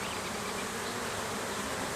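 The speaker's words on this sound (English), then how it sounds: "There's a lot of bees right here" A dense, steady swarm of honey bees drones continuously around an open hive during requeening, a close, even buzz with no talk over it.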